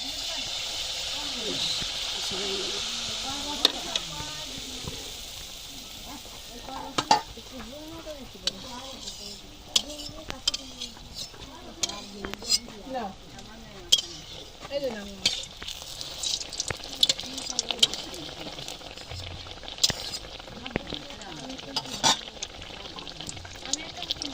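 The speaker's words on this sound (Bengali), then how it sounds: "ভিতর থেকে একটু ছিদ্র করে দিলাম, যাতে ভিতর পর্যন্ত সুন্দর করে ভালো করে ভাজা হয়ে যায়" Homemade winter pitha (rice cakes) fry in hot oil, holding a steady bright sizzle with frequent sharp pops and spatters, while a person talks over the cooking.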